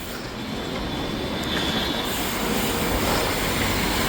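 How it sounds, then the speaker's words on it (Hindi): A Rapid Rail train running on an elevated track in Meerut, a loud continuous rumble with rail clatter and a faint high wheel squeal, heard steadily over surrounding road noise. "अभी पीछे रैपिड रेल मेरे राइट में थी और अभी ये मेरे लेफ्ट में हो गई।"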